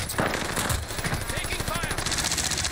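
Video game gunfire: rapid bursts of automatic fire and shots, moderately loud and continuous, with a voice talking briefly over the shooting.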